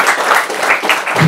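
An audience at a film event breaks into loud, close applause, a dense steady patter of clapping with no voices on top.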